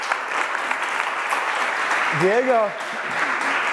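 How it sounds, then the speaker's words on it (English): An audience applauds a student about to demo on a salmon ladder, a steady crowd clapping throughout, with a voice briefly rising over the clapping near the middle. "Let's give him a round of applause."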